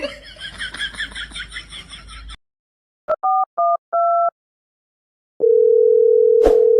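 A telephone call is dialled: after a stretch of voices and laughter, a few short dialing beeps sound, followed by a steady, continuous dial tone that holds to the end.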